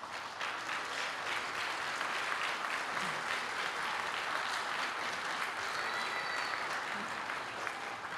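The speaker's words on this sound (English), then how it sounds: "You deserve some applause." An audience at a Vacation Bible School kids performance claps steadily for volunteers, a dense, even wash of applause from many hands filling the room without a break.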